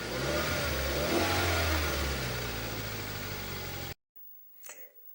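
A car engine starts and runs loud and steady with a deep rumble for about four seconds, then cuts off abruptly into near silence, followed by a brief faint rustle.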